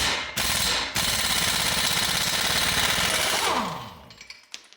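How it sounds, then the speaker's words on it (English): Air impact wrench hammering off a 32 mm CV axle nut on a 2011 Subaru Forester: two short bursts, then a long continuous loud rattling buzz that winds down, followed by a few faint clinks. "I'm going to use an air impact to take that axle nut off."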